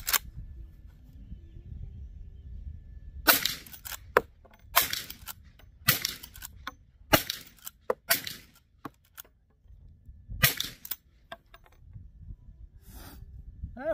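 A Marlin 1894 lever-action rifle in .357 Magnum fires a string of about six loud, sharp shots spaced a second or so apart outdoors, with fainter mechanical clacks of the action between them.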